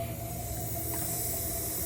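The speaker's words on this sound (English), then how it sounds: "got that sealed in there, and you can hear it blowing through the exhaust" Compressed air blows through a cylinder and out the exhaust of a 1999 Ford F250 V10 during a hunt for a ticking noise, a faint, steady hiss that runs unbroken and alone.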